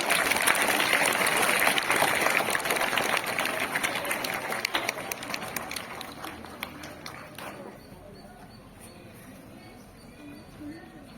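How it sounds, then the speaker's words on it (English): Schoolchildren and guests at an award ceremony for mid-term toppers at SNIS Hosadurga clap in a lively burst that thins out and fades over about eight seconds, leaving scattered claps and a quieter room. "Give a big round of applause to all the toppers."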